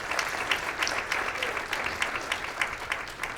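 A school audience at a green schools award presentation applauds, a dense, steady wash of many hands clapping at moderate distance with no voices on top.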